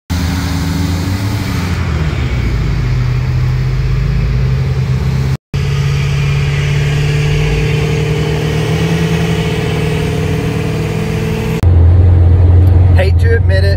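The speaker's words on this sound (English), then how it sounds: "I'm going to drive the Roush" A Roush car's engine runs loud and close while driving, with a steady, rough mid-range rumble and a brief cut partway through, and a voice is heard over it.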